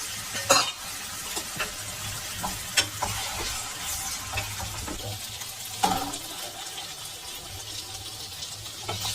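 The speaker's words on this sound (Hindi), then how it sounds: "2 या 3 टेबल स्पून ऑयल डाल के जो चिकन मैरिनेशन करी थी इसको इसमें डालेंगे" Marinated chicken frying in two or three tablespoons of oil for a BBQ chicken rice platter: a steady broadband sizzle, with a few sharp stirring clatters near the start, around three seconds and near six seconds.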